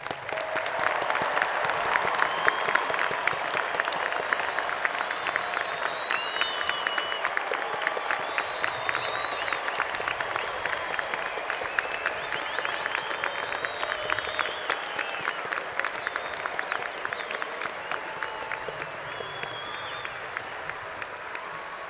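At the Virginia Tech spring 2018 university commencement ceremony, a large audience applauds graduates with steady, dense clapping that holds at an even level throughout, with a bit of crowd noise mixed in.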